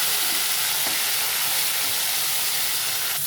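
Drumsticks, brinjal and potato pieces fry in hot oil, giving a loud, dense, unbroken sizzle and hiss that stays close and steady the whole time with no talk.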